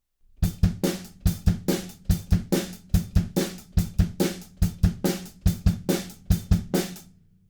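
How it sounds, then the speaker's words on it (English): A steady punk drum beat with the groove carried on the hi-hats. Loud, evenly driving hits continue for several seconds with no voice over them. "And then our pre-chorus is just a punk beat, but over on the hi-hats."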